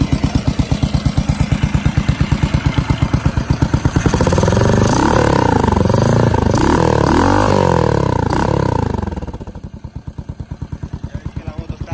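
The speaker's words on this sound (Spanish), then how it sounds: "Ya veis que la moto está perfecta, suena genial, la hemos carburado muy bien y tiene mucha fuerza." A Yamaha SR 500 cafe racer motorcycle, freshly carbureted, runs at a steady thumping idle, revs up loudly for several seconds, then drops back to a pulsing idle, heard close up.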